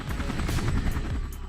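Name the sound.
military helicopters attacking enemy positions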